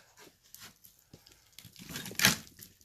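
A knife slices along a walleye while it is filleted, giving soft, faint tearing and crinkling sounds in close-up, with one sharper, louder cut near the end.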